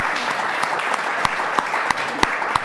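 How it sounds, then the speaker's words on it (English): Applause from an audience, with sharp, fairly sparse claps in a steady patter that rises to a few louder hits over a few seconds and carries no talk. "I'd like to give y'all another round of applause for everything y'all do"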